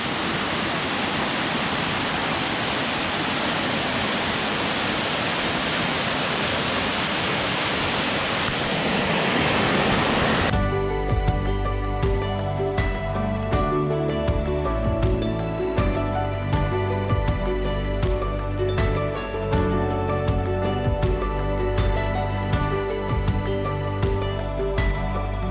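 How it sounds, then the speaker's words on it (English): Steady roaring rush of a waterfall on Ulleungdo island, South Korea, fills the first ten seconds, then cuts abruptly to music with a regular beat. "Have a look at the falls there."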